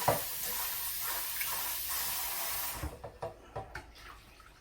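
Rice being drained and rinsed with water, heard as a steady rush of running water that stops and gives way to a few quieter splashes and sloshes.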